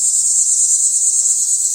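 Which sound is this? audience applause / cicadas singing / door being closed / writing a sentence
cicadas singing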